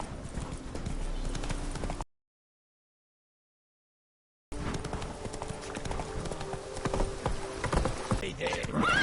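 Roach, the horse in The Witcher 3, gallops with a rapid, even clip-clop of hooves. The hoofbeats stop for a silent gap of a couple of seconds and then resume, with faint game sounds behind them.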